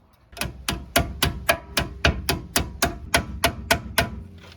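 Brake pad pins on a Mercedes SBC brake caliper are driven home with a hammer: about a dozen sharp metallic strikes at a steady, fairly quick rhythm, loud and close, with no talk.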